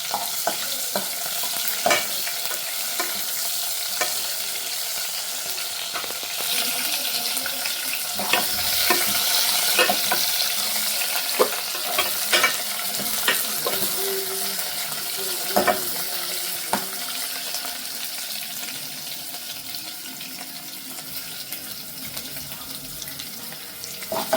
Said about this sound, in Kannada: ಜಜ್ಜಿದ ಈರುಳ್ಳಿನೂ ಒಂದು ಹಾಕ್ಕೊಳ್ಳೋಣ. ಈಗ ಇದನ್ನು ಸ್ವಲ್ಪ ಈಗ ಫ್ರೈ ಮಾಡ್ಕೊಳ್ಳೋಣ.